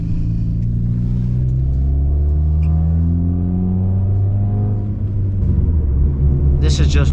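Engine note of a loud Hyundai Tiburon sports car rising steadily in pitch as it accelerates, heard close from inside the cabin with a strong rumble, and the revs dipping and climbing again near the end.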